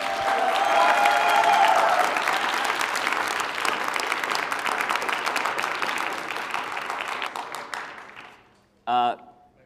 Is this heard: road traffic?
no